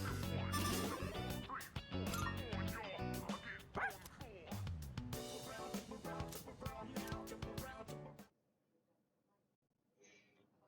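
A dog in Persona 3 Reload gives a run of quick, yappy barks over game sounds and a speaking voice, then everything drops to near silence with a faint sound near the end.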